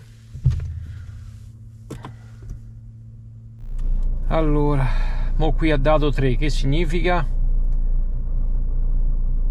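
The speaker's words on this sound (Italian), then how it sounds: "Proviamo a accendere l'auto." A Nissan car's engine cranks and starts, then keeps idling with a steady low rumble close by while someone talks over it.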